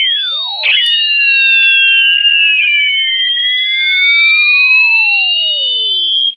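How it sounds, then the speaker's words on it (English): Sonified satellite data of solar particles whistling along Earth's magnetic field lines: loud, continuous electronic whistles with several tones gliding up and down at once, one long descending sweep, alone with no talk. "particles from the sun whistling along the Earth magnetic field lines"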